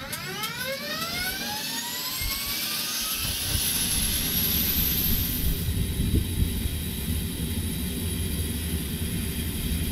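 An aircraft engine in a flight video game spools up from the start, a rising whine climbing steadily over a loud, continuous roar that settles into a steady high-pitched drone.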